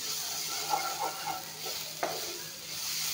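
Bitter gourd sizzles in a pan with a constant close hiss, broken by a few soft stirring scrapes and one sharp knock of the utensil against the pan, with no one speaking.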